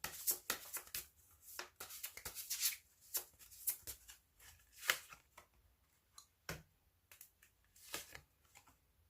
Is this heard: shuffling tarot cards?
yes